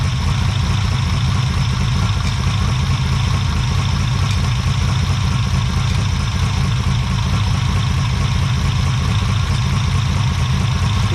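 A Ferrari 330 engine with carburetors idles steadily as it warms up from cold, a loud, continuous low rumble with an even rhythm and no talking.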